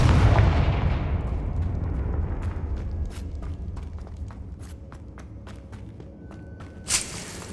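A Confringo blasting-spell explosion in the Hogwarts Legacy video game, a heavy boom that opens loud and rumbles away over several seconds, followed by faint scattered clicks and a sharp burst near the end.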